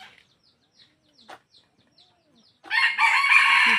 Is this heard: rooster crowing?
yes